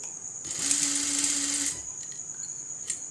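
A sewing machine stitches the side seam of a churidar, running in one steady, close whirring burst of about a second, then dropping back to quiet room noise.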